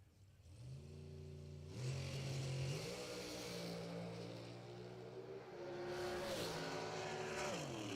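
Race Tech Dragster making a drag racing run at a strip, its engine a loud, steady roar with rising harmonic sweeps as it climbs through the pass, heard alone without talk.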